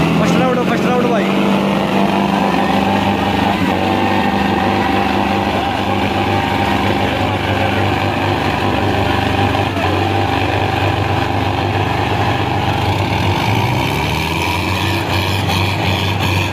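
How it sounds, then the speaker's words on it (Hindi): Sonalika tractor engine at a tractor contest, a loud steady diesel drone with low harmonic rumble that holds throughout, with crowd noise and voices mixed in. "फर्स्ट राउंड जीत गया भाई साहिल मलिक का ट्रैक्टर"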